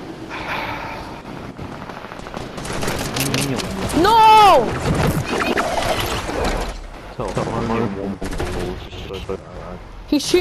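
Gunfire from a Fortnite match rattles in dense, loud volleys among game effects, and a player talks over the shooting.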